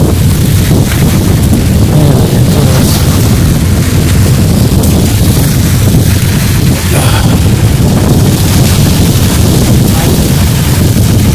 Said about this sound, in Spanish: La brisa del mar.